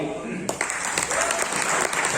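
A crowd at a celebratory gathering in Jammu and Kashmir bursts into loud applause after a brief moment of talk, dense clapping continuing to the end.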